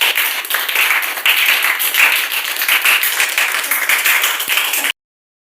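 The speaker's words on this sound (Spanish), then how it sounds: "aplausos para Jairo" Students applaud a classmate after a school presentation in class, dense steady clapping that fills the room for about five seconds and then cuts off abruptly.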